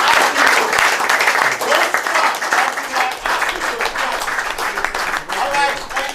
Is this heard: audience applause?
yes